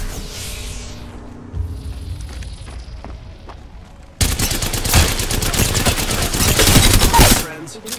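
Rapid automatic gunfire bursts out in Apex Legends, a dense loud rattle of shots lasting several seconds after quieter in-game sounds and a few isolated cracks.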